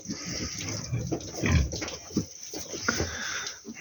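Piglets in a pigsty grunt and squeal in short, irregular bursts at close range, some louder squeals standing out over a busy background of movement.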